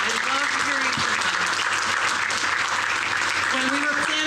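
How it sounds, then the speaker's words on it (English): An audience at a forest industry event breaks into steady, dense applause that holds at an even level, with a few voices murmuring faintly underneath. "let's give another round of applause for these folks"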